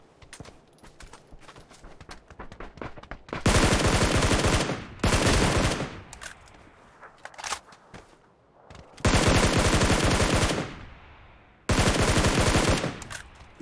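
Shotgun gunfire in the mobile battle royale game PUBG New State comes in four loud, heavy bursts of roughly one to two seconds each, with quieter game noise and footsteps in between.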